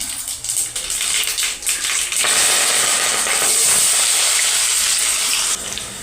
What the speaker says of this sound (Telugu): స్టవ్ వెలిగించుకొని కళాయి పెట్టుకొని ఇక్కడ ఆయిల్ వేసి పోపు అయితే వేసేస్తున్నాను.